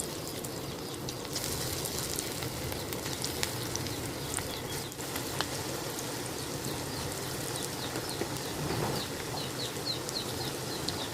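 Masoor dal and curry leaf pakoras frying in a pan of hot oil give a steady, close sizzle with light crackles and pops for the whole stretch. No one speaks.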